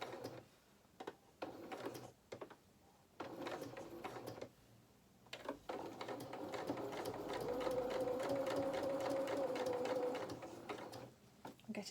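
A sewing machine stitches the seam of a fabric otter toy in several short bursts that stop and start. A longer, steady run of stitching follows before it ends.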